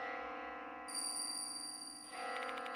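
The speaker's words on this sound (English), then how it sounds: "Where is this bell sound coming from?" Eerie bell tones ring out in the horror game Spirit Hunter: Death Mark II, with sustained high chimes layered over a low ambient drone and steady, moderately quiet music.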